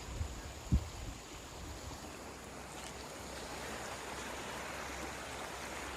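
Sabarmati River floodwater rushes below Dharoi Dam as a steady, low, wide roar of flowing water, even and continuous, with one brief dull thump near the start.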